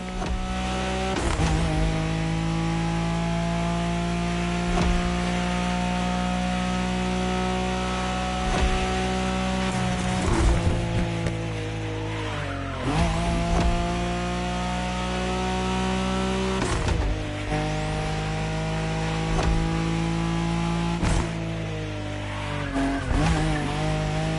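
A Nissan Skyline races in The Crew Motorfest, its engine droning loudly and steadily, with pitch rising through gears, dropping at shifts and revving again, and occasional tire squeal.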